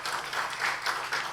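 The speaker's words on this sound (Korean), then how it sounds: "박수 한번 하겠습니다." A congregation at a Korean church's Sunday morning service claps together in a brief burst of steady, rhythmic applause that fills the room.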